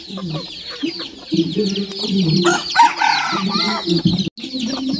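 Roosters and hens at a backyard gamefowl farm in the Philippines, clucking and crowing close by in a steady busy chorus, with a brief louder crow rising midway and a voice faintly talking underneath.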